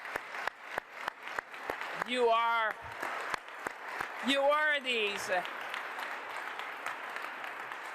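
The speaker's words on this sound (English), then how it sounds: "let me give you another big round of applause" Applause from an audience at a Canadian government announcement about astronaut assignments, heard as a continuous clatter of clapping through the clip, with two loud bursts of speech breaking in over it.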